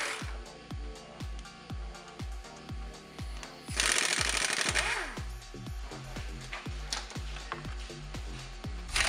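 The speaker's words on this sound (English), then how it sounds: "Start by removing the 4 bolts holding the sway bar cover." Rapid rattling bursts of a pneumatic impact wrench removing sway bar cover bolts on a Jeep TJ during a front bumper install, a fast hammering stutter near and loud, with a harsher burst midway.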